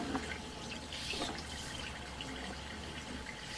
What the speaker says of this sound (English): we are getting a slight rush of water as someone is using a water fixture